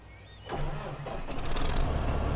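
A tractor engine in Farming Simulator 15 cranks and catches, then settles into a steady, rising rumble close by, with no talk over it.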